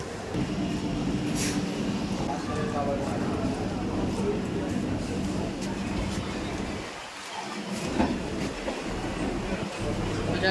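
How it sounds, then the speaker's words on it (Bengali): A Kolkata local train at Sealdah station, a steady rumbling roar of the train with brief station clatter, while people talk nearby throughout. "এটা হচ্ছে আমাদের ট্রেন, এটা ধরেই আমরা এখন যাব এই পিসি বাড়িতে"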